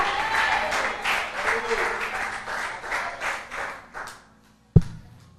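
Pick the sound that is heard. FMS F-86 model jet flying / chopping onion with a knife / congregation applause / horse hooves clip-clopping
congregation applause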